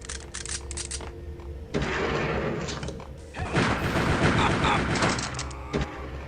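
Gunfire in the video game Max Payne, bursts of sharp shots and rattling volleys, some clustered and dense, with game noise between them.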